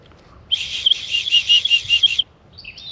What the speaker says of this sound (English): But the whistle works